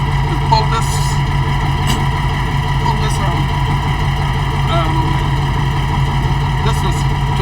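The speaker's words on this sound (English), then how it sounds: "the chief is firing up the engine, ready to spring into action" A fire truck engine running steadily after starting, a loud continuous low idle with a constant drone and mechanical hum, close up throughout while people talk over it.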